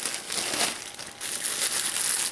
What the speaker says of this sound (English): So this plastic bag was in that plastic bag.